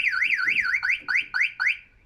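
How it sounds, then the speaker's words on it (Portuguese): A 2020 Dacia Dokker CAN-bus car alarm siren wails in rapid rising-falling sweeps, then switches to a series of short repeated chirps, loud and close. "juntamente com a sirene para dizer que o alarme foi ativo"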